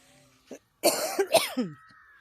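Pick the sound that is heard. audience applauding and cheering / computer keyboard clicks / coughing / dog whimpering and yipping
coughing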